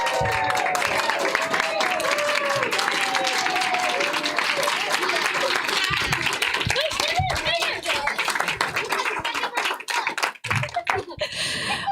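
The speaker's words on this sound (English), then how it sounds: "Let's give them another big round of applause." Audience applause after a 4th grade school musical, a steady, loud wash of clapping from a crowd of parents, with cheering and speech over it until it thins out near the end.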